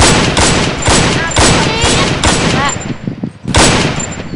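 Rapid gunfire in the video game MTA (Multi Theft Auto), a loud, dense run of repeated shots with brief gaps that breaks off near the end, mixed with other game noise.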